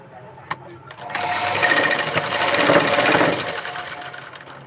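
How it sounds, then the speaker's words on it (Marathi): A sewing machine stitches a blouse, its motor whirring in a steady close run after a brief quiet start, then tapering off; a voice speaks nearby. "थोडं अर्जंट ब्लाऊज होतं म्हणून सकाळीच बसले मशीनवर"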